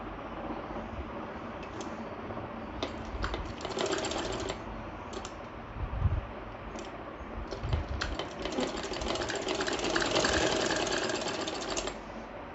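A sewing machine stitches a kurti sleeve with cuff in quick mechanical bursts, a rapid clattering whir that starts and stops several times, close by and moderately loud, with no talk over it.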